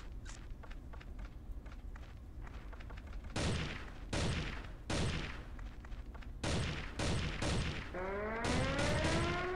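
Gunfire in the battle royale shooter Crossfire: Legends: a string of sharp shots and short bursts, loud and close, with sliding pitched tones near the end and no talking.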